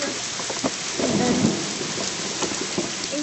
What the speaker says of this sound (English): Yes, it's a thunderstorm.